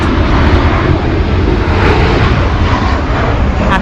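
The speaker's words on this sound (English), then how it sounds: "planes coming into land." Airplanes approaching to land at Broome airport roar loudly and continuously overhead, a dense, close engine rumble filling the whole stretch with no break.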